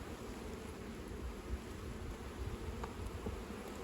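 A swarm of honey bees drones around a hive being split, a thick, even buzz near the microphone that holds steady throughout with no talking.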